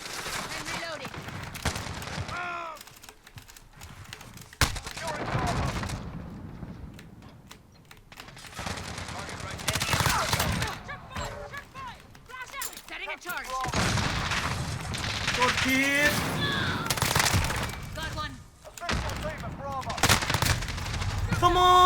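Sustained gunfire in a Call of Duty: Modern Warfare match comes in loud, dense bursts separated by brief lulls, with rapid shots and occasional heavier blasts over roughly twenty seconds of close-range combat.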